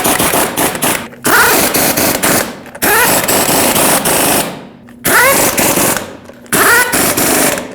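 Lug nuts are driven onto a wheel of a 2009-2010 Dodge Ram 1500 with a rattling impact-style tool, in three or four loud bursts of hammering with short pauses between them.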